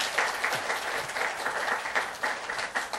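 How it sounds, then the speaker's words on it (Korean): A church congregation claps steadily and fairly loudly at a second-anniversary service, sustained applause filling the room with no voices standing out. "박수로 좀 한번 격려해 주시면 감사하겠습니다."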